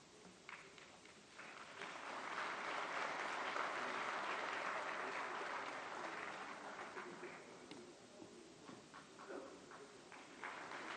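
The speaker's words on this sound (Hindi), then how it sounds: "जोरदार तालियों से स्वागत" Loud, sustained applause from a crowd welcoming a minister at an event with Prime Minister Modi, swelling and holding steady for several seconds before thinning slightly.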